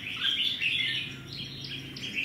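Red-whiskered bulbul singing a continuous run of bright, warbling chirps and whistles, fairly close and steady throughout, with no talking.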